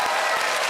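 A brief burst of audience clapping rises from a comedy show crowd, a quick, dense patter of many hands close by.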